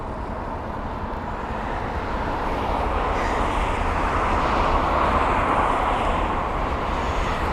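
A United Airlines Boeing 787-9 Dreamliner arriving at London Heathrow, a steady broad jet roar that swells slightly louder midway and holds, with no voices over it.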